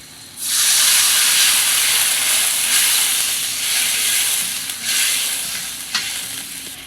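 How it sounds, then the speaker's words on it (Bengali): Water poured into a hot pan of spices for a thin hilsa fish curry with eggplant and potato bursts into loud, steady sizzling and steaming hiss that carries on without speech, easing slightly toward the end. "সব কিছু কাঁচা গন্ধ চলে গেছে, এবার দিয়ে দিব জল।"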